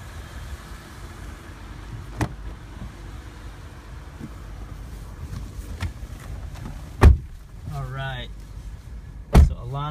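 Someone climbs into a Lexus GS350 F-Sport; a low interior hum and a voice in the background give way to two solid door thumps near the end, with a brief rising electronic whine between them.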